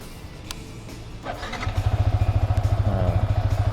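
A 2017 Yamaha Vixion R motorcycle, about four years old, cranks with a clatter and catches, then settles into a loud, close, steady rhythmic idle with pulsing exhaust beats.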